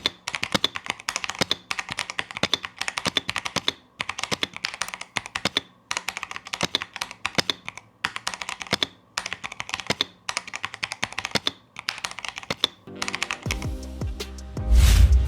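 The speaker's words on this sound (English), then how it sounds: "Listen to how it sounds when I type." Close, steady typing on a wegear × Cherry PIXIU98 mechanical keyboard: quick clacking bursts of keystrokes with short pauses, no voices.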